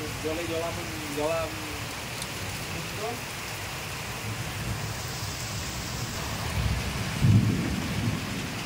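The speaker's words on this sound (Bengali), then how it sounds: "কিন্তু বৃষ্টি খুব জোরে হচ্ছে।" Heavy rain pouring down steadily outdoors during a storm, a dense continuous wash of noise, with brief voices early on and a low rumble of thunder near the end.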